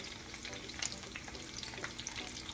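Potatoes and onions fry in grease in a pan, a steady close sizzle and crackle with soft stirring scrapes, quiet and without talk.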